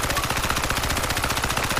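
Rapid automatic gunfire from Crysis 3 multiplayer, a fast, steady stream of evenly spaced shots that rattles continuously and loud from start to finish.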